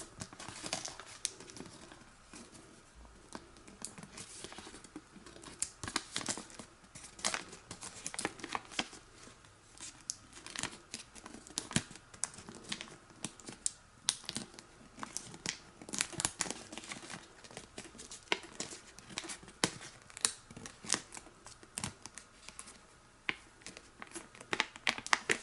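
Paper being folded into an origami leaf crinkles and crumples close by as it is pressed and squashed into a tight space, a long run of faint, irregular crackles and rustles with no voices.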